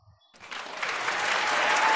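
Applause in Taskmaster VR swells in quickly after a brief quiet moment, a dense crowd clapping that grows louder and steadier, with no voices over it.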